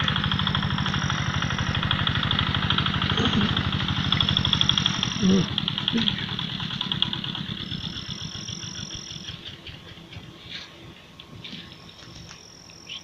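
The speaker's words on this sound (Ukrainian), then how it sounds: "Тракторець десь приїхав." Steady low tractor engine rumble with a regular throb, fairly close at first and then easing off and fading, with faint insect chirping above, on a cool morning at a fishing spot.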